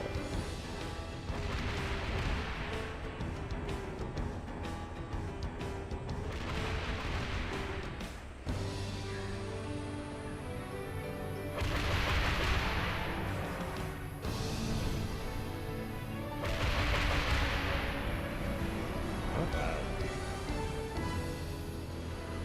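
Pelican vehicle missiles in Halo 3 firing and exploding, bursts of booming blasts and crashes layered over a steady engine hum, swelling in waves several times.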